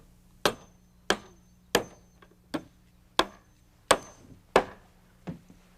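A hammer drives nails into a 1-inch wooden strip at the top of a staircase model: eight sharp, evenly spaced strikes ring out close by, each decaying quickly over a faint background hum.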